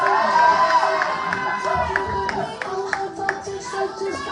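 Crowd cheering and whooping at a drag competition, heard from a played-back recording, with shouts and scattered claps over a lively, moderately loud roar.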